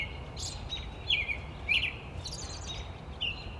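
Birds call at a wetland nature preserve in Fulton County, several faint chirps and short whistled notes spaced a second or so apart over a soft outdoor hum.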